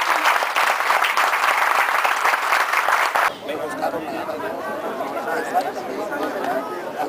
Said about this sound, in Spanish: un fuerte aplauso, pero para la gente que confía en todos nosotros